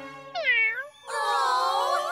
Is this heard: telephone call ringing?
no